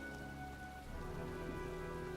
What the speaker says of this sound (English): Well, looks like a storm's coming. I guess I better be getting home. As it's raining.